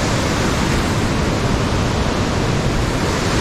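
Bitti Falls waterfall heard as a steady, dense rush of falling water, loud and continuous with no pauses, filling the whole span without any voices.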